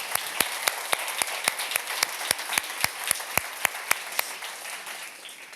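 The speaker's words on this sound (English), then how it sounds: "Yeah, and an applause." Applause at a software company summit, made of sharp evenly spaced claps that ring out in a steady rhythm, fairly close, with a faint crowd murmur underneath.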